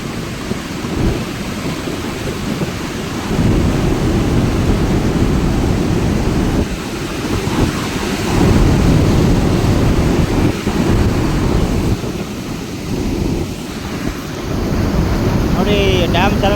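Water rushes through the Marikanive dam channel in a constant loud roar, with wind buffeting the microphone and faint voices now and then in the background.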